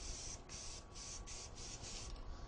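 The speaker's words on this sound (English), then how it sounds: "I'm going to spray my palette down just up on this upper end" Spray tack adhesive misted onto a screen printing palette: about six short, loud hissing bursts in a steady rhythm, close up, with no talking.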